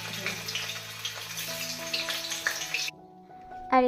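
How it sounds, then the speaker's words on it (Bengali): Paneer pieces frying in a hot wok, a steady crackling sizzle that cuts off abruptly near the end, with a faint tone and clatter after. "এখন আমি পনিরগুলো ভেজে নেব।"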